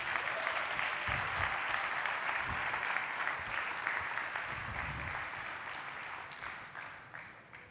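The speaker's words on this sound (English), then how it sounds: "Can we just give one more round of applause for Andre" Audience applause at a global business summit, a dense, even wash of clapping from a large crowd that stays steady and fades gradually toward the end.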